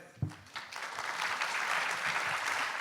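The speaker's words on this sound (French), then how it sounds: "Merci, mesdames. On peut les applaudir." A conference audience applauds the speakers, starting with a few scattered claps that quickly swell into steady, moderate applause from the room.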